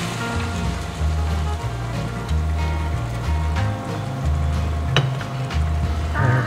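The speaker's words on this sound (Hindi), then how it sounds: "मसाला हमारा अच्छे से भुना गया, तो अपने लोबिया ऐड कर देते हैं हम।" Black-eyed peas tipped into hot, well-fried masala gravy, giving a loud, steady sizzle and hiss that continues throughout, with a low hum beneath it and no speech.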